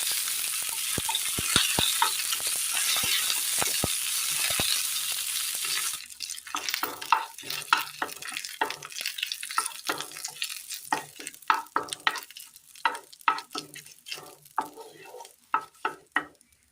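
Curry leaves sizzle hard as they hit hot oil in a pan, a dense crackling hiss that gives way to sharp scattered pops and stirring clatter while snake gourd roast is stir-fried.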